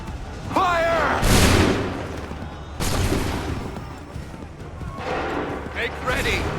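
Musket volleys crack out in Assassin's Creed III Remastered, two loud massed bursts a second or so apart followed by a later rattle, with shouted commands and chatter between the shots.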